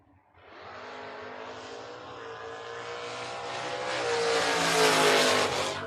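A drag racing wagon and a Mustang roar off the line together, engines building into a loud sustained howl that climbs in pitch and intensity as they accelerate away, with no talk.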